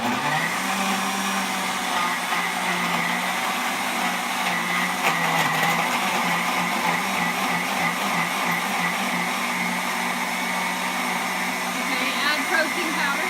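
A blender whirs steadily while mixing a spinach fruit smoothie with homemade Greek yogurt, a loud, continuous motor drone that barely changes in pitch, with faint speech now and then.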